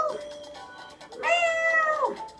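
A domestic cat gives two drawn-out meows, the second louder and longer and rising then falling in pitch, heard close with no talking.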